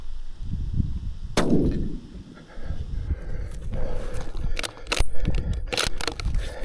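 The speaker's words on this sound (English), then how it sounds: "I rushed this shot trying to get him before he got in front of that doe." A rifle shot fired at a pronghorn while hunting on public land in Wyoming: one sharp, loud crack rings out with a decaying tail, followed by rustling, clicks and handling noises up close.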